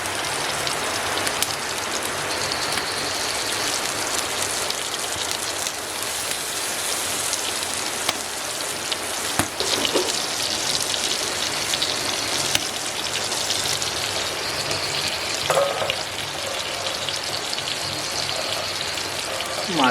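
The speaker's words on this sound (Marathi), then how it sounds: "पाऊस आला आहे" Steady outdoor rainfall patters on surfaces at a rural Konkan home where fish are being fried over a wood-fired stove, a dense continuous hiss with scattered louder drops and no talking.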